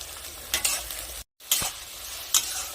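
Chopped onions with a pinch of salt sizzle steadily in a hot pan while a spoon stirs them in a few scraping passes, with a brief silent gap midway.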